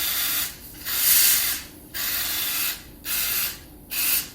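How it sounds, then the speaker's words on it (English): A Mr. BBQ Mister sprays fine mist in four separate hissing bursts, each about half a second to a second long with short gaps between, close and clear with no talking. "I spray too much because I enjoy how cool it comes out"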